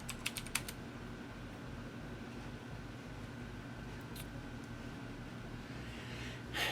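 Typing a login and password on a computer keyboard during setup of an Antsle Nano server, a quick cluster of key clicks at the start and a few faint taps later over a steady fan hum.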